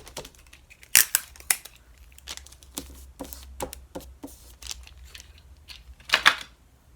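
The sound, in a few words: taping newspaper together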